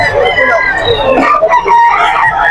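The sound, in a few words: chickens and roosters crowing at market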